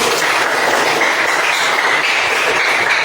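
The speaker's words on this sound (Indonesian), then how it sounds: "tepuk tangan buat kita semua" A group of people clap together in steady, dense applause that runs loud and continuous from start to finish, with no voices over it.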